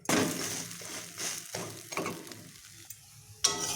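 Shredded cabbage fries in a wok over low heat, with a soft sizzle broken by several sharp, close scrapes and stirs of the spatula, the last one louder.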